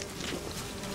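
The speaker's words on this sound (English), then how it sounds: "Bees!" Bees swarming in The Witcher 3, a dense, continuous buzzing drone that fills the moment steadily, close and fairly loud with no talk over it.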